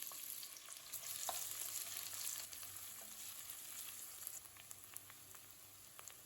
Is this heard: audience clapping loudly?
no